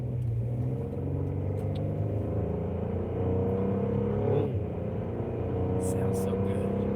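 A car engine runs with a steady low rumble, rising and falling slightly, heard close by.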